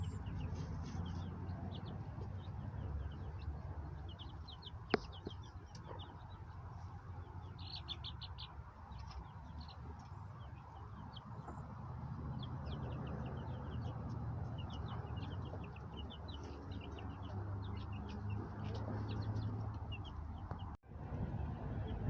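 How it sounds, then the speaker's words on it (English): Roosters and bigger hens in a backyard flock, scattered soft clucks and chirps at a distance over a steady low outdoor hum, with a brief sharp knock partway through. "the roosters and the bigger hens"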